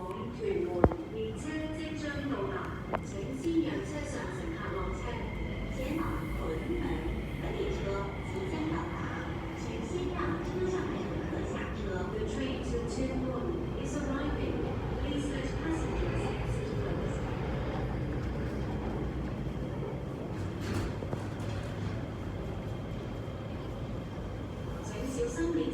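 A light rail train at the Tin Yiu LRT stop in Tin Shui Wai rumbles and whirs through a long stretch, with rail clatter and brief squeals, while people talk nearby over the steady noise.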